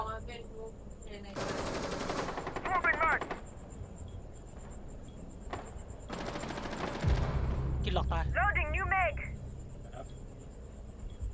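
Rapid automatic gunfire rings out in Rainbow Six Siege in two long bursts, loud and close, each followed by ringing tail tones. Smaller scattered shots and game effects fall between them, and a player talks quietly underneath.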